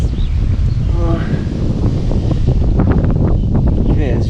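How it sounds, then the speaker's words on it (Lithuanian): Strong wind buffets the microphone during river fishing on the Neris, a steady loud roar and rumble filling the whole stretch with faint voices underneath. "Vėjas žiaurinis tai."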